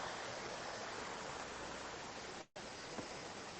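A waterfall roars in a dense, continuous rush of water, broken by a brief dropout near the end.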